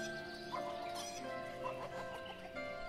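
Chickens clucking in the village-building game Ostriv, a few short clucks and calls over steady game background ambience, moderately close.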